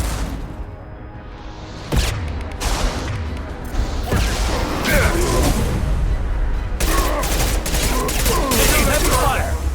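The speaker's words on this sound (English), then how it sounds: "Heavy fire!" Heavy gunfire rages in a Mass Effect 2 combat scene, with dense sustained bursts, sharp booms and whooshes, loud and continuous, while voices shout over the firefight.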